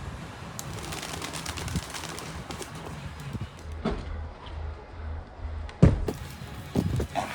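Pet pigeons or doves coo softly up close among rustling and fluttering, with a sharp knock or flap and shuffling noises partway through.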